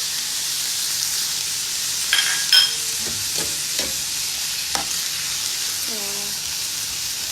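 Banana flower stir-fried in a pan with pepper and salt makes a continuous hissing sizzle, punctuated by a few spatula scrapes and taps, with a brief spoken word.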